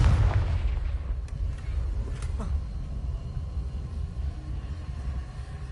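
Confringo spell blasts go off in Hogwarts Legacy on PS4, set to hard mode, as a heavy boom at the start followed by a few sharper cracking hits and a steady low rumble.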